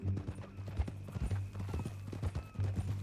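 A horse's hooves clip-clop at a steady walking pace in Red Dead Redemption 2, soft and fairly close under a low background of game ambience.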